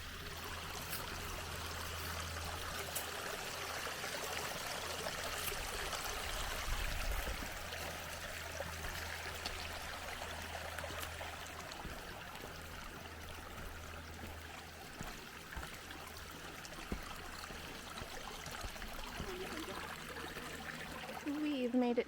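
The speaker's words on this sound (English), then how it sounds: "We're at Hauser Creek. See, it's flowing right here" Hauser Creek flows over rocks at the bottom of Hauser Canyon, a steady close rushing and trickling of water that stays continuous and fairly loud throughout, with no talking.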